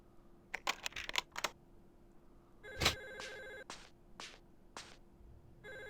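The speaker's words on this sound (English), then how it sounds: "I did just hear the fucking phone." Telephone ringing in the PS1 horror game Clock Tower 2: The Struggle Within, a shrill electronic bell trilling in a few bursts amid soft clicks and game ambience, fairly faint and without talk.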